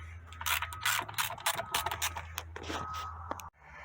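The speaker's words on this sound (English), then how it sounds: "So I'm just going to use a little ratchet with a 8mm deep socket and get it back here on these bolts." Small ratchet with an 8mm deep socket turning out bolts on a 1999-2005 Jeep Grand Cherokee during clockspring removal; rapid clicking pawl bursts in uneven runs, close and fairly loud, with no talking.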